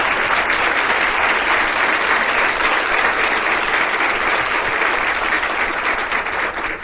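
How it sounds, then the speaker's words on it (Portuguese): Sustained applause from a church congregation welcoming a guest at a Bible study, steady and fairly loud throughout with no pauses, tapering slightly at the end. "Um aplauso para a nossa irmã Maria Luísa."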